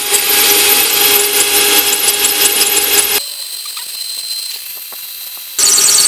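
Loud, continuous grinding whine of a diamond bit boring into hard polished tile under heavy pressure, steady for about three seconds, then a quieter scraping stretch before the grinding resumes.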